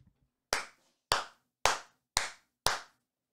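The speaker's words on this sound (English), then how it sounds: "That applause was lame as hell." Five separate sharp hand claps sound at an even, slow pace in a quiet studio, each crisp and close with a short decaying tail and silence between them.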